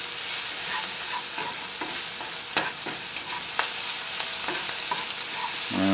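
Indonesian sweet sauce is stirred into savoury oatmeal sizzling in a hot pan, giving a continuous close hiss broken by scraping and clinking strokes of the utensil, with no talking.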